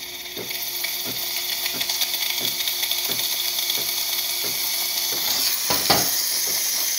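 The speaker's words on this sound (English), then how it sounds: "Let's test the steam." Steam wand on a De'Longhi Magnifica espresso machine hisses loudly and continuously, with a regular series of pump clicks ticking underneath about twice per second, close and alone.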